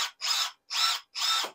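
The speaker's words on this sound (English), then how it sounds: "you can drill holes with it" A cordless drill spins up at high speed in three quick bursts, each a loud whining buzz with brief silent gaps between them and no talking.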